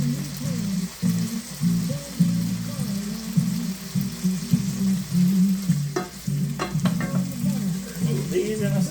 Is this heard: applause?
no